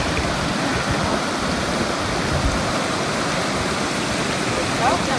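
Steady roar of rushing water pouring over the Baume-les-Messieurs waterfall in France, heard from the top of the falls, loud and continuous broadband rush with no pauses.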